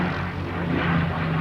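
A wooden de Havilland Mosquito, a twin-engine prewar-designed aircraft with a 54-foot wingspan, drones steadily overhead at the 1986 RAF Halton airshow, a continuous low engine hum with no break across the brief moment.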